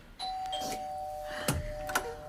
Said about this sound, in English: give us the doorbell when you're ready.